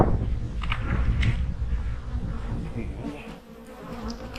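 Honeybees hum around an open hive during fall hive preparation, a close, buzzing drone with individual bees zipping past now and then, steady and moderately loud with no talk.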